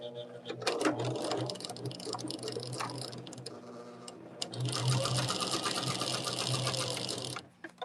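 A sewing machine runs steadily, stitching a ribbon quilt block with a quiet continuous whirring hum, and a voice can be heard faintly at times.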